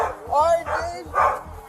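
Guard dogs barking at a police scene, giving three loud, deep barks spaced about a second apart. They are fairly close, and faint voices can be heard around them.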